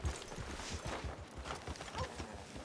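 Horses' hooves in the Red Dead Redemption II video game, a steady rapid clip-clop of several horses plodding at close range, faint and continuous with no talk.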